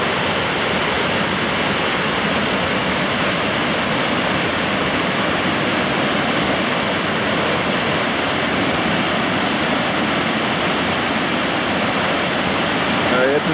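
A swollen waterfall, normally just a tiny stream, roars after three days of heavy rain in the dry season. The rush is loud, steady and unbroken throughout.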